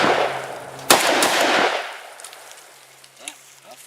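A 12 gauge AK-pattern shotgun, a Saiga-12 or VEPR-12, fires outdoors: one sharp, loud blast with a long rumbling tail that fades into quiet, followed by faint clicks and handling noise.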